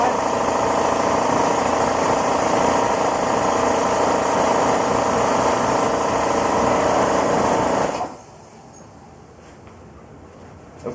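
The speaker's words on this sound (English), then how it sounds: "my compressor would choose that moment to go off" A workshop air compressor runs with a loud, steady motor drone and mechanical hum, then shuts off abruptly, leaving a quiet room with a faint residual tone.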